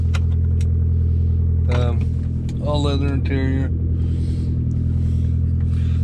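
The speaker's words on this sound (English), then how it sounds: "With a loud exhaust right now." A loud, rumbling exhaust on a 2005 Audi A4 Quattro in need of exhaust repair drones steadily throughout, with someone talking briefly over it.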